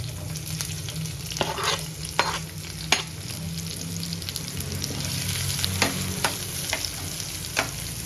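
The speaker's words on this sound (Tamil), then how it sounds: "வெங்காயம் நல்லா பொன்னிறமா வதங்கணும்" Onions frying and being stirred in a pan while cooking paneer biryani at home, with a steady sizzle, occasional utensil scrapes and taps, and no talking.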